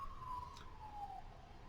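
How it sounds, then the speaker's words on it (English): Ambulance siren heard faintly as the vehicle drives by, a single steady wailing tone slowly dropping in pitch over a low background rumble. "So waiting for the ambulance to drive by."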